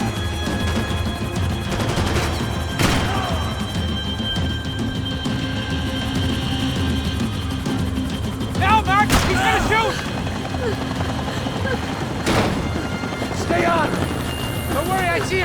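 Gunfire erupts in the video game Max Payne 3 over a dense, steady backdrop of game noise and rumble, with several sharp shot bursts standing out; voices talk through much of it.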